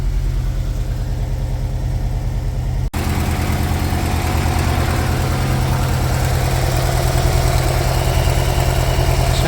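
A Volkswagen T25 Vanagon's 1.9 petrol engine idles on choke, a loud, close, steady low rumble with a brief dropout near the start before running on evenly.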